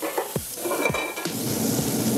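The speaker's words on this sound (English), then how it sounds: "Gonna render that sausage a little bit. The fat's coming out." Spicy andouille sausage sizzles in hot oil in a pan, a steady crackling fry with a few stirring scrapes and clinks near the start.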